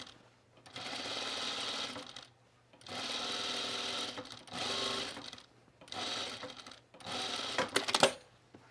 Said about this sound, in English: now we're gonna put in the basting stitch, or the easing stitch.